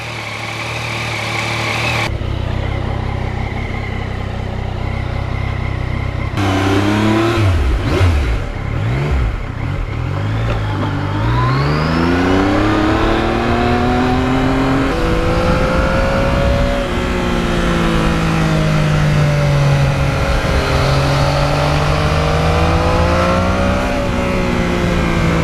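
A 2020 Yamaha MT-09 motorcycle's engine revs up and down while riding, pitch climbing and falling in repeated sweeps over a steady loud drone, close and continuous with no talk.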